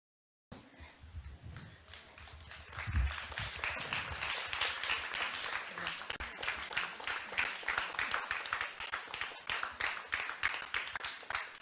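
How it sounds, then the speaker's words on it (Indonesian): An audience at a discussion of performing arts in Jakarta claps steadily for several seconds, a moderately faint, dense patter of applause with little talk. "another round of applause"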